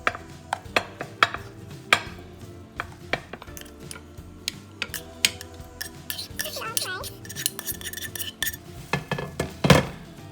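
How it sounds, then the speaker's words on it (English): Cooked rice being spooned into a glass bowl for a sausage, spinach and rice dish, with repeated close clinks and scrapes of a utensil against glass in an irregular rhythm. "I'm gonna go ahead and add the rice to this glass bowl here."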